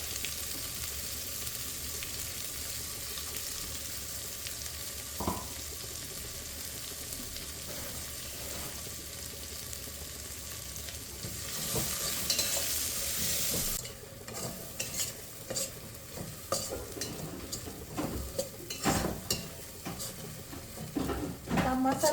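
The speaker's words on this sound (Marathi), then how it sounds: "मसाला पण आपण असा तेल सुटेपर्यंत छान परतून घेणार आहे" Masala sautéing in ghee for Maharashtrian masale bhaat, a steady close sizzle with scraping stirs and a few sharp pan knocks, the frying swelling louder partway through.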